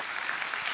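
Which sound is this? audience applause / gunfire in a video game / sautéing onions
audience applause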